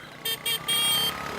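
A motorbike roars past close by in a street scene, its engine surging in short loud bursts that merge into a sustained high whine, with a horn-like tone and noisy traffic around it.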